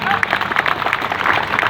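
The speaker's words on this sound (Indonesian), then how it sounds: "Ya, tepuk tangan dulu." Brief applause from a crowd at the opening of a GRIB party office in Pekanbaru, Riau, a dense patter of clapping lasting under two seconds.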